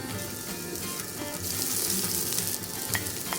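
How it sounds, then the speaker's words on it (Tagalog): Onion and garlic sauté in a pan for pork menudo, giving a steady close sizzle with occasional stirring scrapes and clicks, no talking. "In the same pan, we will saute our onion"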